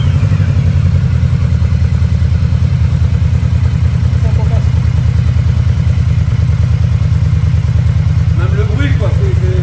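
A 1700 cc motorcycle engine runs at a steady, loud, close idle with an even rapid pulsing throb throughout, and faint voices come in briefly over it.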